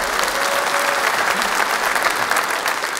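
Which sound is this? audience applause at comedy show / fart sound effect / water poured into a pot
audience applause at comedy show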